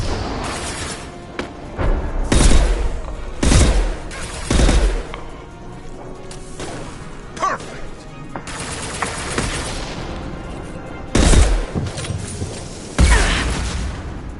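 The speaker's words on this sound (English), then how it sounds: "Firing a high-impact shot." High-impact gunshots in Mass Effect 2 Legendary Edition, a string of loud heavy booming blasts spaced unevenly across the stretch, with bursts of combat noise and debris between them.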